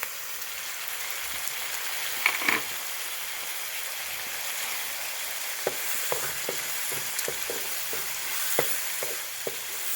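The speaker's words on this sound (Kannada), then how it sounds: "ನೀಟಾಗಿ ಇದು ಫ್ರೈ ಆಗಲಿ ಟೊಮೊಟೊ" Tomatoes fry in a pan in a village kitchen, giving a soft hissing sizzle overlaid by scattered light clicks and taps from stirring.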